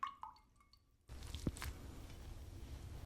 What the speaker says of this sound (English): By placing your shave brush in water, it allows it to absorb that water.